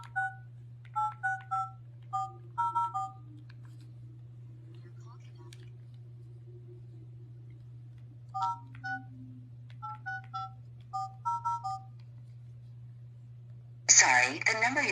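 Touch-tone keypad tones dialing a phone number in several quick bursts of beeps, pausing between groups, over a steady low hum, with a brief spoken phone message at the end.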